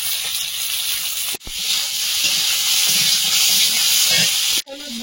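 Fennel seeds, onion, tomato and green chili sizzle loudly in hot oil in a pan, a constant bright hiss with two brief breaks where the sizzle drops out.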